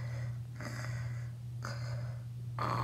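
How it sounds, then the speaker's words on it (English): A sleeping character in the Granny horror video game snores in three slow, evenly spaced breathy snorts, about one second apart, over a steady low electrical hum. "Oh, he's kind of snoring."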